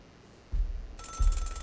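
Telephone ringing at a phone booth in the video game Celeste: a quiet lead-in, then an electronic ring with a soft thump at its start, a second thump, and a shrill, bright tone holding to the end.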